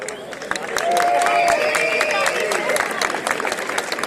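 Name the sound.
applause for the wildwater canoeing teams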